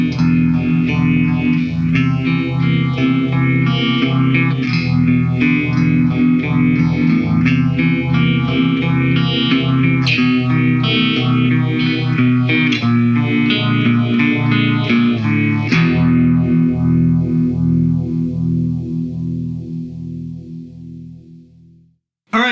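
Distorted electric guitar chords run through an MXR Script phaser pedal into the ultra gain channel of a Marshall DSL 20 amp, swirling and sweeping loudly with steady strumming before ringing out to silence.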